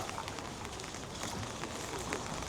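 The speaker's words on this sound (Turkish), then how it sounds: "Gördüğünüz gibi böyle bir yağmurlu gündeyiz" Steady hiss of rain falling on a street in Batumi, dense and even throughout, with faint scattered drips and no voices.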